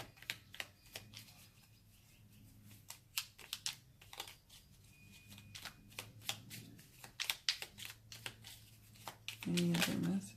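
Small tarot cards are shuffled by hand in quick bursts of crisp riffling and slapping, close and faint, with soft rustling between runs and a muffled thump near the end.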